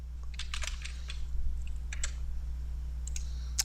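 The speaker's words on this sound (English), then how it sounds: "I can keep on going like that, typing just random stuff." Keys clack at random on a computer keyboard during a Linux inter-process communication demo, irregular clusters of close, fairly quiet taps and clicks over a steady low electrical hum, with no talking.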